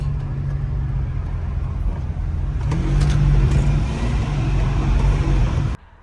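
A Ferrari 456 drives along the road, its engine a steady close drone that swells briefly as it pulls harder before cutting off abruptly near the end.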